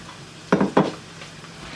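Two quick scraping stirs of a spoon through chickpeas in a pot of spinach pulao, close and distinct, over a faint, steady background hum.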